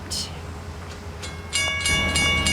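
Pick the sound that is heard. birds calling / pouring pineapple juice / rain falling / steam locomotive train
steam locomotive train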